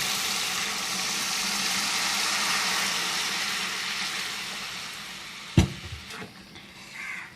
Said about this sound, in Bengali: এখন আমি আগে থেকে সিদ্ধ করে রাখা মাছের ডালটা এর মধ্যে ঢেলে দিব।